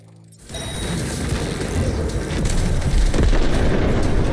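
An enemy's dropped grenade in Cyberpunk 2077 goes off abruptly, and a heavy booming blast swells into a sustained, loud rumbling roar with debris clatter that grows stronger toward the end.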